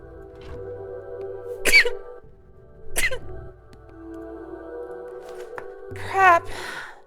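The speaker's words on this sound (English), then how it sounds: "I'm gonna sneeze." A person sneezes forcefully at close range, a sharp burst followed by another loud explosive sneeze a few seconds later, with a smaller cough-like sound between and game music humming in the background.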